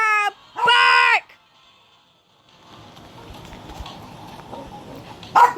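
Dog barking indoors: two loud close barks at the start, then a quiet stretch of low household noise and a final sharp bark.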